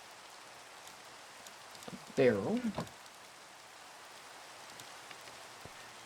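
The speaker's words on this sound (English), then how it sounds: "it raining right now is kind of perfect for us." Steady rain in the ATM10 Minecraft modpack patters as a soft, even hiss throughout, faint and continuous, with someone briefly talking over it partway through.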